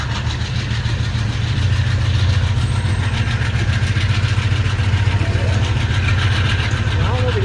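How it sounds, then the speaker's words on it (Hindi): The AG30 diesel locomotive hauling the Bahauddin Zakriya Express rumbles with a steady, loud low engine drone and continuous rail noise throughout, heard close by at night. "AG30 मेरे फेवरेट इंजन का साउंड आपने सुना।"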